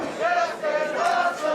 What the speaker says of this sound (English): The crowd's letting him hear it.